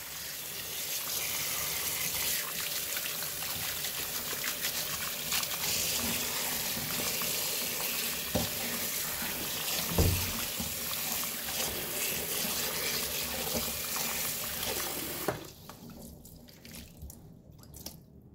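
Water runs and splashes steadily while olives are being washed, a continuous close trickle with occasional clinks and knocks, which stops near the end and leaves quiet.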